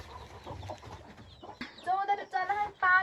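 Local farm chickens cluck close by in a series of short, sharp, rising calls that get louder toward the end, with a low voice murmuring at the start.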